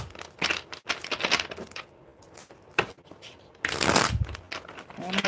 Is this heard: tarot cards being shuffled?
yes